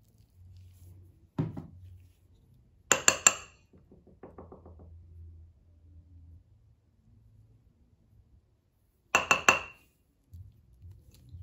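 Cake batter and a spoonful of Nutella are scooped into a mug for a microwave cake, heard as a few sharp clinks of a spoon against the ceramic, separated by near-silent pauses.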